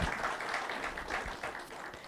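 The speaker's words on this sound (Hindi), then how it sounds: "दूसरा जरा जोर से तालियां तो बजाओ" An audience at a stress-management talk claps loudly, a dense, sustained burst of applause that swells and fades slightly over two seconds without any voice.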